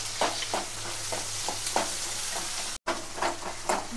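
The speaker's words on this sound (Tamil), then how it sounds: "இப்போ வதக்கு." Onion and curry leaves sauté in a pan with a steady close sizzle, broken by repeated scraping stirs of a spoon against the pan.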